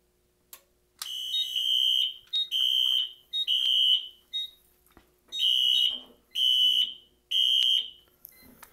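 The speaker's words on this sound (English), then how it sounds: "Alarms continue to sound." A Silent Knight SK-5208 fire alarm panel sets off its alarms after its rate-of-rise feature trips, sounding a series of loud, harsh electronic tone bursts in an uneven rhythm, about seven pulses separated by short gaps.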